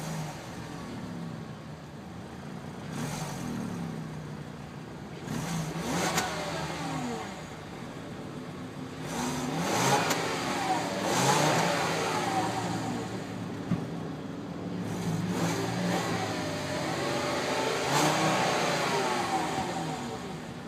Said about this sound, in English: Five-cylinder engine really sounds like a truck engine